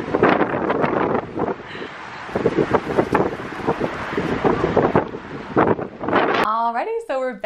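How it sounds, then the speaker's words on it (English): Gusty wind blowing outdoors at a gem and mineral show, buffeting the microphone in a steady rumbling roar for several seconds, with a voice talking over it before a clearer voice speaks near the end. "It's really windy outside."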